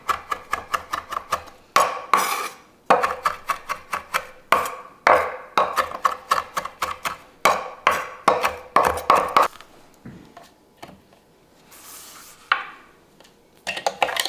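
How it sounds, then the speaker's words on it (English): A knife chops fresh thyme and rosemary on a board in rapid, even bursts of sharp clicking taps, close and clear, pausing briefly between runs and ending with a few scattered strokes. "I'm just going to chop these up nice and small"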